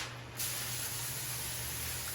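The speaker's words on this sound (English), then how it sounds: "I'm gonna spray the foil with Pam." Pam cooking spray hisses steadily onto a sheet of foil in a home kitchen, one continuous close spray lasting about two seconds after a brief quiet start.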